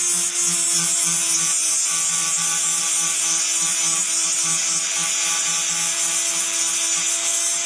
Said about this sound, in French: le plus important c'est d'utiliser une meule et de vraiment faire une grande surface de dépolissage